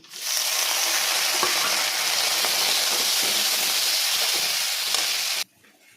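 Tomatoes drop into hot oil with reddish-brown fried onions, setting off a loud, steady sizzle that fills the pan and stirs along continuously, then cuts off abruptly near the end, leaving quiet.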